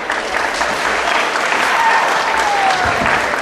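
At a coronation ceremony an audience claps, a dense and fairly loud wash of applause that runs through the whole short stretch, with faint voices mixed in.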